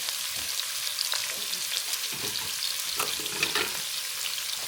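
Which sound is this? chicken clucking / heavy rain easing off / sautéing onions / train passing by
sautéing onions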